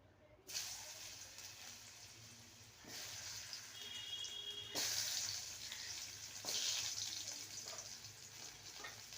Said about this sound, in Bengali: যে মিষ্টি আলু কেটে রেখেছিলাম সেগুলোকে দিয়ে দেবো ভেজে নেব